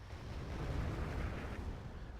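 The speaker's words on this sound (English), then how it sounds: "His Mirage is dropping napalm." Napalm dropped by a Mirage jet in Wargame spreads into a low, rumbling roar of fire, a steady muffled burning wash that swells slightly and then holds at moderate volume.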